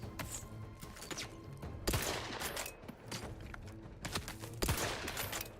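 Gunfire in the Outer Worlds 2 video game, a few sharp shots and thumping bursts scattered over a busy, low-level battle background, moderately distant and fairly quiet.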